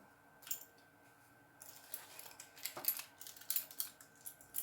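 A bunch of everyday metal keys jangles softly up close, with light scattered clinks and rattles that cluster in the second half after a quiet start.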